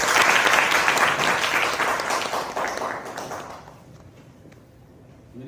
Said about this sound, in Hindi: एक बार सर के लिए जोरदार ताली